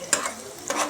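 Sliced onions fry in oil in a pan for tomato rice, a soft steady sizzle broken by two quick stirring scrapes.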